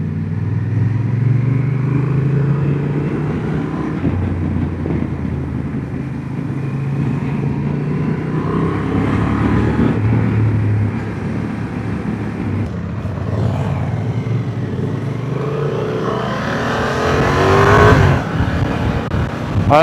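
A 2025 Honda Transalp 750 adventure motorcycle rides off-road, its engine droning loudly and steadily with rising and falling revs and a stronger surge of throttle near the end, with no talk.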